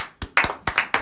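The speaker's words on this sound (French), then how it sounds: "On l'applaudit." A small audience claps for a woman being introduced on stage at a Quebec podcast recording, the sparse handclaps coming in distinct bursts rather than a dense roar, close and fairly loud.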